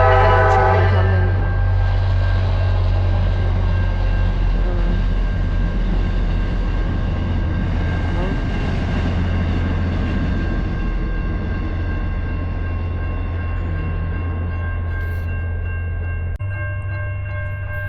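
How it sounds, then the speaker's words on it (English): A South Coast Rail train passes the Berkley crossing at night, opening with sustained horn tones over a deep, steady rumble of rolling cars that continues loudly and then eases off near the end. "I've got this train coming."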